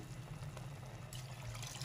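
A cup of water poured into a cooking pot of beef filling for samosas, a steady rushing splash that runs loud and continuous for about two seconds with no talking over it.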